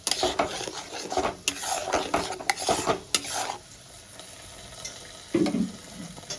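Onion paste fries in oil in a pan, with busy scraping and clattering from stirring over a soft sizzle, then a quieter stretch and a final scrape.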